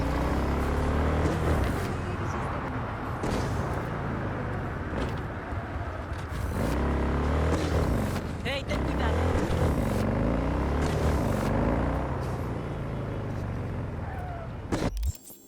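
A car driving in the video game Cyberpunk 2077, a steady loud engine drone with shifting revs and scraping bumps throughout, with a person talking over it and a sharp hit near the end.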